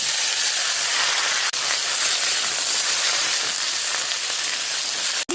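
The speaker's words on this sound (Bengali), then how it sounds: "তেল দিয়ে আমি ভেন্ডিগুলোকে ভেজে নিই।" Sliced okra frying in oil, a loud, even, continuous hiss and sizzle with no talking.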